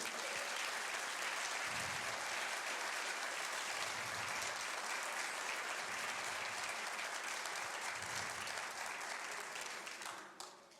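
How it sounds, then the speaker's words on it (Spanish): A church congregation applauds during a sermon, a long, even wash of crowd clapping that stays dense and steady for about ten seconds before dropping off at the end. "Yo le daría un aplauso al Señor"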